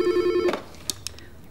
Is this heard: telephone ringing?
yes